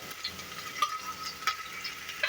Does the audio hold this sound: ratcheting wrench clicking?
no